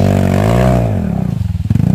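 Motorcycle on a hard enduro trail at Mt. Paldingan, the engine holding a loud steady drone that dips and then breaks into rapid uneven putters and revs, close by with no talk.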